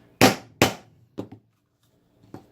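A rivet is set on a DIY pocket holster with a dished rivet-setting tool: two sharp, loud hammer strikes in quick succession, then two lighter taps and one more soft tap after a pause.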